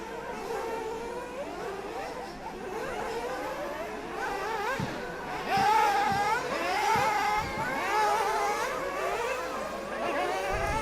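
Nitro-powered RC buggies in a European championship main final, a fleet of about a dozen cars, race around a track, their small engines whining and revving in overlapping, fluctuating buzzes, moderately distant and continuous.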